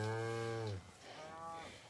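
Cows moo loudly in a calf shed area on a farm, one long, close, sustained low call that breaks off partway, followed by a second, fainter moo.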